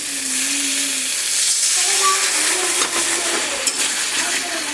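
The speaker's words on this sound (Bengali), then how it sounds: "প্রায় কষে এসেছে মশলাটা। এবার হালকা একটু জল দেবো" Spice paste sizzles in a hot pan as a little water goes in, a loud, steady broadband hiss running throughout with faint tonal traces of a voice in the background.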